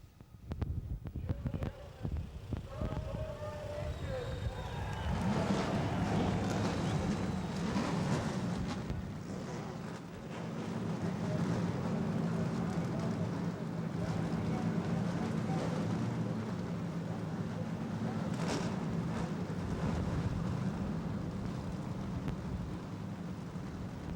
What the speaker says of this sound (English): V6 engines have come to life on pit road here in Barberville, Florida